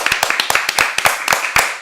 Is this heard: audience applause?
yes